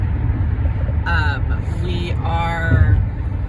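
Steady low road rumble inside a moving car, loud and continuous, with someone talking over it.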